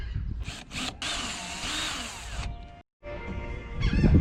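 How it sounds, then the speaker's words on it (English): A power drill with a large bit whines loudly as it bores through a butcher block countertop in a van, running in a couple of bursts with a brief pause before starting again. "then I have a big 1/2 inch drill bit for the water. So here we go."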